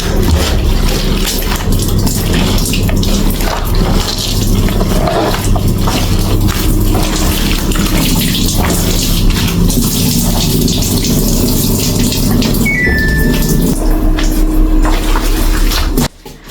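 A Samsung top-loader washing machine fills with water, a steady broadband rush and splash running loud and unbroken for about sixteen seconds before cutting off abruptly at the end.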